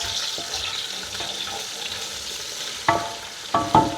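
Spicy pork with green spice sautés in a pot, giving a soft, steady sizzle close by, with a few sharp clatters of stirring near the end.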